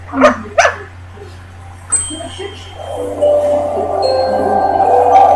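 A dog barks hello: two sharp barks close by, then a softer yelp and a sustained whimpering, whiny vocal sound that fills the second half.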